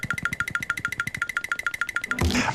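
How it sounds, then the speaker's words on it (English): A cartoon boing effect for a character's flapping feet in The Loud House, about twenty quick springy boings in a steady bouncing rhythm, close and clear, ending in a brief burst of other noise. "that sound effect when Lincoln is flapping his feet up and down when he's backing away, silently"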